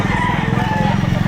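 Rooster crowing at an open-air chicken market in Lipa, Batangas, a steady harmonic call running close and loud through the whole moment, with market chatter and voices mixed underneath.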